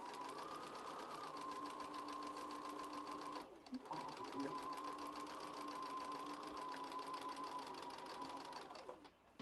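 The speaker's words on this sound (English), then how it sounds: "I'm going to start stitching all the way at the seam allowance and then just come across." Sewing machine running steadily while stitching foundation paper piecing from the seam allowance across, a continuous close whir with one brief pause near the middle before resuming.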